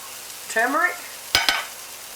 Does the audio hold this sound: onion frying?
yes